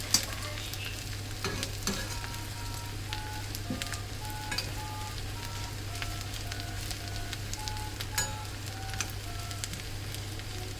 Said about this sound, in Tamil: இந்த மாதிரி இதை நல்லா தாளிச்சுக்கோங்க.